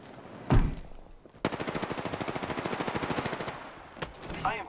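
Gunfire in the Apex Legends battle royale game: a single sharp shot, then a sustained, evenly paced automatic burst of roughly two seconds, and a few scattered shots near the end.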